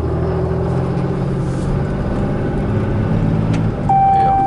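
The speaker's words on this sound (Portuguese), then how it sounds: "Lindão esse barulho desse motor, cara." A Ram 2500 Tradesman 4x4 pickup with a 6.7L Cummins turbo-diesel runs close by with a steady, loud, low rumble. A thin high tone joins near the end.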